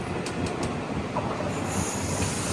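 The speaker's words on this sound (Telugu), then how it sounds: "సో పక్కన ఏదో ట్రైన్ అయితే ట్రావెల్ చేస్తుంది" A passenger train runs along nearby rails on the Ernakulam–Guruvayur line, a loud rumbling roll with a few sharp wheel squeals and clicks, steady throughout.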